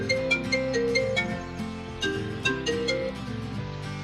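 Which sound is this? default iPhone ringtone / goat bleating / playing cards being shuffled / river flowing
default iPhone ringtone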